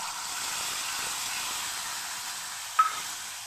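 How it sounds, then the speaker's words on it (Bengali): Mixed spices frying in hot oil for a vegetarian dish, a soft steady hiss of sizzling throughout with one brief clink of a utensil near the end, quiet and without talk. "মশলাটা একটু ভালো করে কষিয়ে নেব।"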